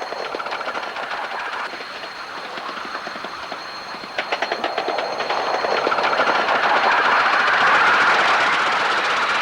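A 7¼ inch gauge miniature locomotive named King Jack runs along a track, its wheels clattering in a steady rhythm over rail joints, growing louder and closer toward the end.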